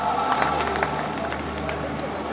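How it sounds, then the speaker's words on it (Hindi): An audience applauding to welcome guests at an evening cow-protection event, a continuous crowd clapping with some cheering and babble, loud and sustained throughout. "जोरदार ताली बजाकर के अभिनंदन करें"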